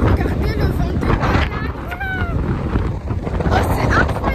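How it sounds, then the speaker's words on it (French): Strong wind batters a microphone outdoors on a trip to Tunisia, a loud continuous low rumble with gusting buffets that persists throughout, with a voice faintly audible beneath it. "Il y a grave du vent."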